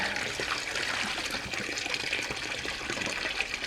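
Water from a hot spring pool beside the Verde River draining through a hole in the corner, a close, continuous gurgling trickle and gush with no voices.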